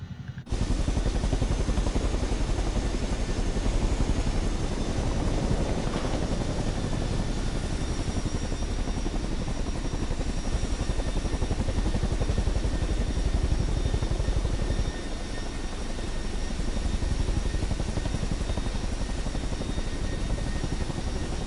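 Light general aviation aircraft taxiing toward a helipad near Truro, Cornwall: a steady, loud, continuous engine drone with a constant whine runs for over twenty seconds without pause, no speech over it.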